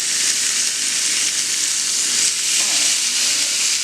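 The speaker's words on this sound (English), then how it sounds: "So I made sure the pan was hot enough, as you can hear the sizzling" Steaks sear in a very hot pan seasoned with sea salt, giving a loud, steady, dense sizzle and crackle throughout with no talking.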